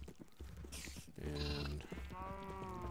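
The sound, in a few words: sheep bleating in a video game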